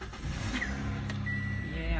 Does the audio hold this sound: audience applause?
no